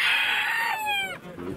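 Chickens and roosters at an outdoor bird market in Kropotkin, with one loud, close cock-a-doodle-doo crow drawn out over about a second, followed by a brief lower cluck.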